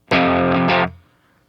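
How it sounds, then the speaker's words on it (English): A single distorted electric guitar power chord from a riff rings out loud and thick, sustaining for under a second before cutting off abruptly. "with just a regular power chord,"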